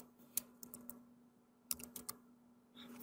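Typing on a computer keyboard while entering a spreadsheet formula: two quick clusters of soft, close key clicks with a pause between, quiet over a faint steady hum.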